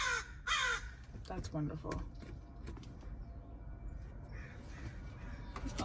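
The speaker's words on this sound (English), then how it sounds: "All these crows just lined up" Crows caw repeatedly in a loud group, harsh calls bursting out near the start and recurring through the clip, while someone talks over them outdoors.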